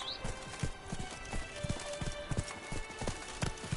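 Roach, a horse in The Witcher video game, gallops with quick, rhythmic hoofbeats pounding close and steady over faint ambient sound, no talk.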